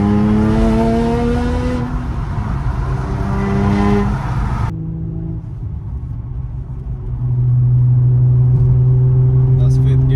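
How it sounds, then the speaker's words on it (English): Inside an Infiniti G35 fitted with a Motordyne Thunder Pipe exhaust, a loud continuous engine and exhaust drone rises through the gears with steady revving tones. A voice is briefly heard over it. "What we're about to do right now is get some interior clips of how the exhaust sounds like."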